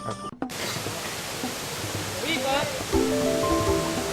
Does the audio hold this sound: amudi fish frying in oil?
no